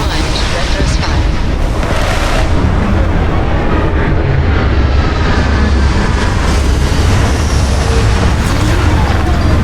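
Retro thrusters on a spaceship firing during a landing in the game Starfield: a loud, steady, broadband roar with deep rumble, sustained throughout without pause, with faint voice chatter mixed in.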